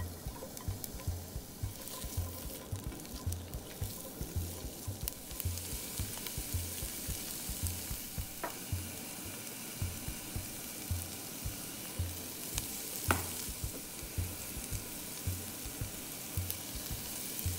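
Diced onion with salt, chili powder and cumin sizzles steadily in oil in a pot over medium heat, a constant fizzing crackle marked by faint scrapes from stirring.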